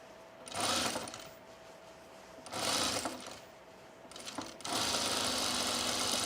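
A serger sewing machine stitching the seams of a sunblock top runs in three separate buzzing bursts, each a second or more long, the last one longest, with quiet pauses between.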